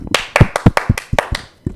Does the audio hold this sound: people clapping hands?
yes